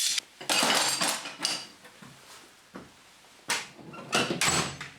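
Hand tools clatter and rattle as a toolbox drawer holding spanners and blades is pulled and handled, giving a few bursts of metallic jangling separated by brief quiet gaps.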